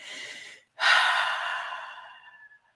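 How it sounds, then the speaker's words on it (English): A person takes a slow, deep breath close by: a short inhale, a brief pause, then a longer, drawn-out exhale that fades to silence, with no talking. "getting our out breath extended"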